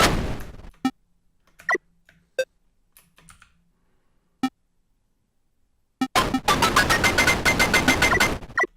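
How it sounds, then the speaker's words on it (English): Sharp retro explosion effects from a Pico-8 Breakout game, a few isolated crackling pops followed by a dense, rapid burst of rattling blasts near the end, loud and close with no talking. "I like the explosions now."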